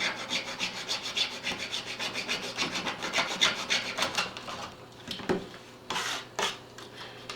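Small wooden braces being trimmed off a model, a close steady run of rasping, scraping cuts in quick rhythm, easing into a few sharper scrapes and knocks near the end, with no talking.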